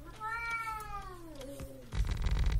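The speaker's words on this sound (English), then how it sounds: "What's wrong with you, cat?" A cat gives one drawn-out, falling meow lasting over a second, close and fairly clear, followed by a burst of louder rustling noise.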